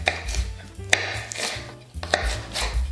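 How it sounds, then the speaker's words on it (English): A knife chops through a broccoli stem on a cutting board in quick, close, irregular strokes, each cut landing with a firm thud. "We clean a bit from the leaf. And we cut in 4 smaller pieces"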